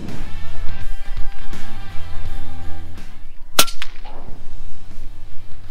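An FX Panthera air rifle fires a 21-grain H&N Barracuda pellet during pest control. A single sharp crack stands out over loud background music and other sound, followed by a brief fading tail.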